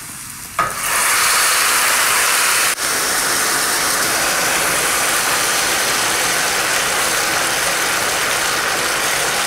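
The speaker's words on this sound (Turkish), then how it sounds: "Şimdi pirinçlerimi artık suyumu ekleyebilirim." Water poured into a hot pot of rice on a stove, a sudden loud hiss of steam that holds steady and bubbling, with a brief dip partway through.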